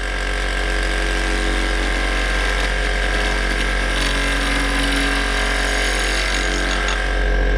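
A multi-axis machine cutting metal at about 2700 RPM, giving a loud, continuous mechanical drone with a steady low hum and gritty, rattling cutting noise throughout, close up and without talk.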